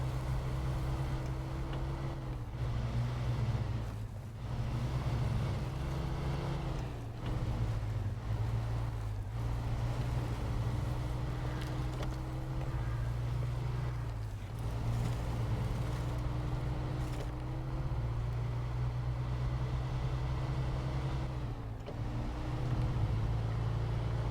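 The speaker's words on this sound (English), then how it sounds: "Go through the mud, let's get it back into high ratio gearbox." In the video game SnowRunner, a truck grinds through mud with a steady low engine drone and rumble, continuous and fairly loud throughout, with brief dips and no talking.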